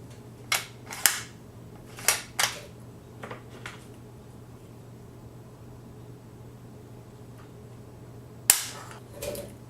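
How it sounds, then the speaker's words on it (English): Sharp dry clicks from the trigger being pulled on a Thompson Center Venture .280 Remington rifle, a handful of quiet snaps spread out in pairs with a louder one near the end, over a low steady hum. "let's check out the trigger pull"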